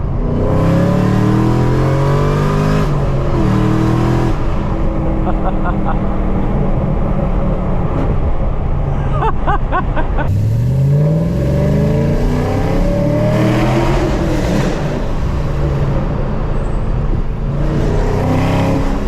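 A Chevrolet Camaro ZL1 running on E85 accelerates hard on a morning drive, its loud engine revving up through repeated surges and gear changes heard from the cabin, with a voice talking over it at times.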